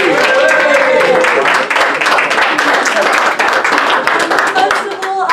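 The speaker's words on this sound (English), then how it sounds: "so could we all give him a round of applause?" An audience at a Hilton gathering gives a round of applause, loud and close, with a dense patter of clapping and some voices mixed in.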